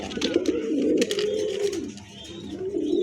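Pigeons coo inside a pigeon showroom, a steady low warbling murmur with overlapping birds close by, continuing throughout with faint chirps above.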